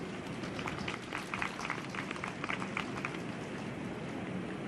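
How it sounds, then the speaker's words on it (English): Graduation audience applauding in a large hall, a dense, fairly quiet patter of many hands clapping steadily for several seconds with no voices on top. "Let's give them a round of applause too."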